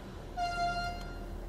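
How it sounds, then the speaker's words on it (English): A single short train horn toot from a class 612 diesel unit in Train Simulator Classic on the Pegnitztalbahn route from Nürnberg to Bayreuth, a fairly faint steady tone lasting about half a second. "Honk. Horn works."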